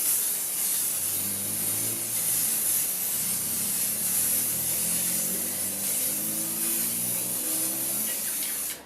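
A spray can of green paint hisses in one long, steady, close-up blast as it coats glass stones laid on a mat, cutting off abruptly at the end, with no talking.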